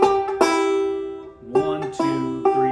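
An old-time South Carolina banjo playing a 5-count roll, a few bright plucked notes ringing with a slight pause before the pattern resumes, close and clear and alone.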